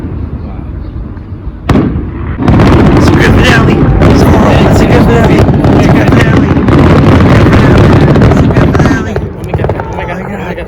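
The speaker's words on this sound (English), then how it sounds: "Zoro, what do you think of the fireworks" Fireworks show crackling and booming outdoors, a dense, loud continuous barrage of bursts and rumbling after an initial thump, with voices mixed in, tapering off near the end.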